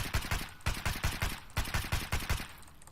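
A Vityaz submachine gun empties a full magazine in Escape from Tarkov, sharp close shots in quick bursts and short strings with brief pauses between, loud and punchy throughout.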